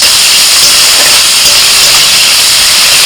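Cardamom, cloves, cinnamon, chopped tomato, green and dried chillies and cumin sizzle hard in hot oil for a tempering, a loud, close, continuous hissing spatter with no talk.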